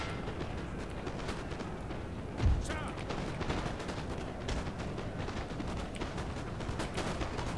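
Musket volleys crackle in a Napoleon Total War battle, a dense, distant rolling rattle of gunfire with one sharper close blast, continuing under battlefield noise throughout.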